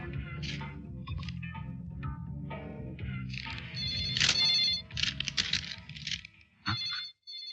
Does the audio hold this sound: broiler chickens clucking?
no